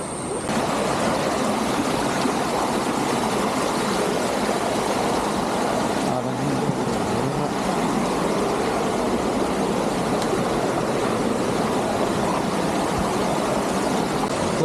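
Water rushes steadily along a stream near the Amboori waterfall in Kerala, a dense, continuous, fairly loud wash of broadband noise with no pauses.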